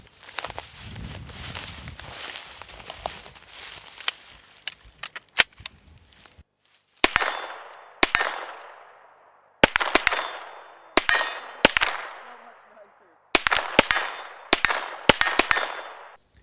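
CZ Scorpion firearm fired at a 25-yard range in a slow, rhythmic string of sharp, loud cracks, single and paired shots spaced out with short ringing decays and quiet gaps between, no talking.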